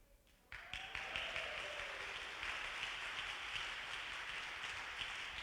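A church congregation applauds during a sermon: the clapping starts suddenly and becomes a broad, steady patter of many hands that carries on for several seconds, with a brief voice heard just before it starts.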